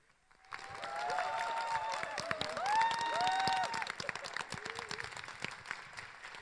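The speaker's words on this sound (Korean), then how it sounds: "여러분 큰 박수로 맞아 주십시오" An audience at a lecture hall applauds to welcome a speaker, a moderate wash of clapping that swells and then thins, with scattered voices and cheers mixed in.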